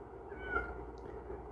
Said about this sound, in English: I'm hearing the cat again.